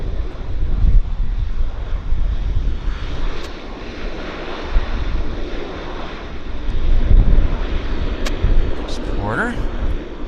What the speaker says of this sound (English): It's a DC-8 71 or 73 with 2 engines.